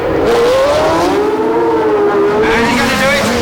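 A 1976 Formula 1 race car's engine revs hard at around 11,000 rpm during the US Grand Prix West, a loud sustained high whine rising and falling in pitch as it accelerates through the gears.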